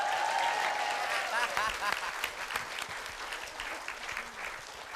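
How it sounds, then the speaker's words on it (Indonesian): A crowd claps steadily, dense applause filling the whole stretch at moderate loudness, with a few cheers rising briefly early on. "Terima tepuk tangan untuk Tato Dadun, Narjo, dan Kowol"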